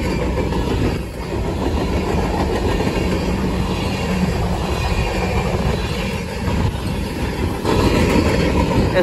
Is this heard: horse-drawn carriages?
no